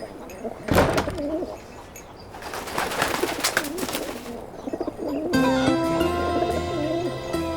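Pigeons coo softly with bursts of wing flapping, then a tonal, music-like sound takes over near the end.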